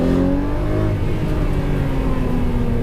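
Lamborghini Murcielago with its V12 engine, six-speed manual, revving hard and continuously up close, a steady loud howl with rising pitch and no talk over it.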